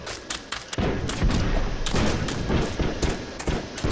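Gunfire rattles in a World War I video game, sharp shots and bursts cracking repeatedly over a dense, continuous battle din.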